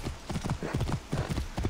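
A horse's hooves clip-clop in Assassin's Creed Origins, a quick rhythmic series of close, clear hoofbeats in pairs that carry on steadily from start to end.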